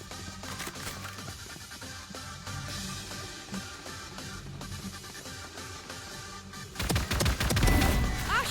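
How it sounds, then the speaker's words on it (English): Valorant match gunfire crackles in rapid bursts over a busy game background, closing with a louder, denser volley of shots. "I shot somebody"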